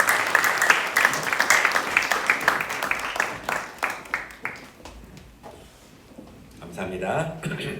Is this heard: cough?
no